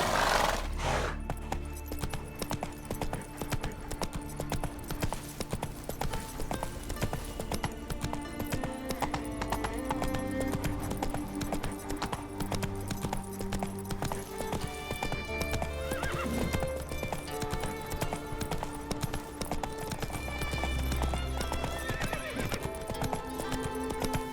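The horse Roach gallops in The Witcher 3: Wild Hunt, with steady rhythmic hoofbeats throughout and a neigh or two over ambient game sound.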